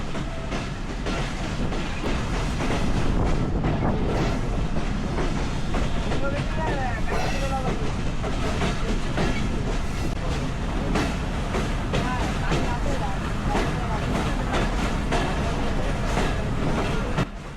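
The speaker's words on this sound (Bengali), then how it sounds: "আমাদের ট্রেনটা নোয়াপাড়া রেল স্টেশনে প্রবেশ করছে" A train on the Mongla line rolls into Noapara railway station with a loud, continuous rumble and rhythmic wheel clatter throughout, with faint voices mixed in.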